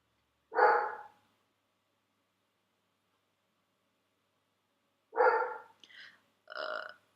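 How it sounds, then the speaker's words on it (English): A dog barks indoors at nothing outside: one sharp bark, then a long silence, then two or three more close barks in quick succession near the end. "chill does not mean go bark some more"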